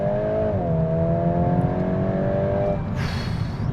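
VW Golf R Estate pulling hard in second gear after a downshift, a loud, steady engine drone rising in pitch from inside the cabin, with a brief hiss near the end.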